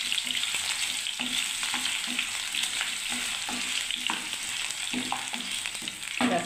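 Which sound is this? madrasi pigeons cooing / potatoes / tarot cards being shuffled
potatoes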